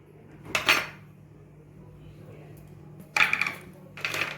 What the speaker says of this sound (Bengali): এর ভিতরে আইস দিয়ে দিব, আইস।